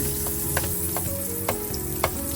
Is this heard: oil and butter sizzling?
yes